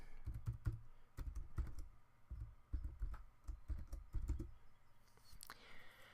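A password is typed on a computer keyboard after a terminal command to connect to a remote machine over SSH, giving quiet, close, irregular clusters of key clicks in short bursts, with no talking.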